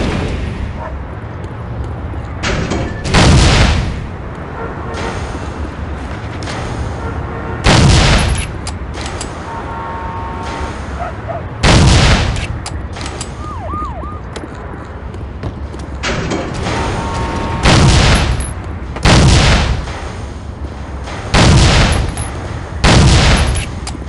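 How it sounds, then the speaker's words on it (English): Gunfire in the video game Soldier of Fortune on a shooting course: a series of loud, sharp shots spaced irregularly a few seconds apart over steady background noise, with occasional faint electronic tones. "Shoot any thug that pops up."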